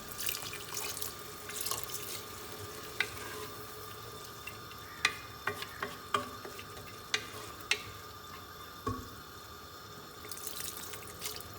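Water poured in small amounts into mash daal cooking in a pot, a quiet running trickle with several sharp clinks and drips spread through the clip, heard alone without talk.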